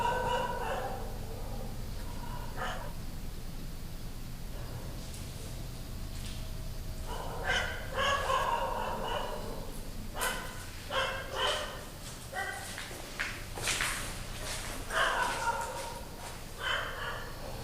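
A dog barks in repeated bursts close by, near a building outdoors at night, with irregular yips and barks over a steady low background hum.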